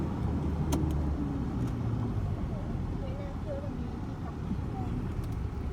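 Car engine pulling steadily up a mountain road toward Doi Suk Jai in northern Thailand, driven with light throttle; a continuous near rumble under people talking inside the vehicle.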